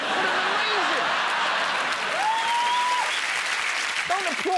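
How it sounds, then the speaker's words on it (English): A television studio audience claps loudly and steadily throughout, a dense wash of applause while a voice speaks over it. "Don't applaud."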